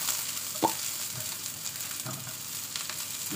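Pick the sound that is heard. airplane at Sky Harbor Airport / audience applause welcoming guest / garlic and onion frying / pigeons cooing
garlic and onion frying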